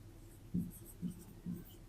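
Pen or chalk writing by hand during a Hindi-language Class 10 math lesson on polynomials: three short, soft scratching strokes spaced about half a second apart, close and quiet, with no talking.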